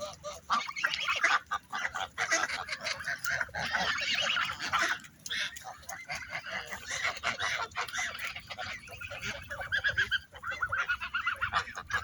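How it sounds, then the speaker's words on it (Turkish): A flock of geese honks continuously, many overlapping calls close by, loud and busy with brief pauses. "kazlar"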